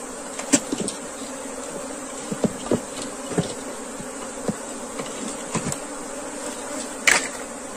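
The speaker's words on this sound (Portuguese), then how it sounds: "que eu vou jogar muitas abelhas aqui dentro agora" A swarm of honeybees is tipped into an open wooden hive box, giving a steady, close buzzing drone broken by scattered knocks and taps from handling the box.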